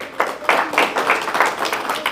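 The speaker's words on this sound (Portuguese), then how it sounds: "Posso ouvir um glória a Deus, salva de palmas para o Senhor?" A church congregation claps in a brief burst, a handful of distinct, fairly close claps in an uneven rhythm rather than a dense roar, with no voices over them.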